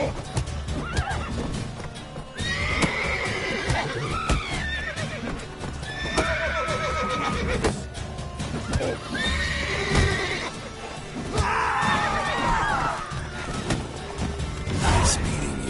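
Horses in The Witcher 3 video game whinny loudly several times over rapid clip-clopping hooves, close and energetic, with brief crashes mixed in.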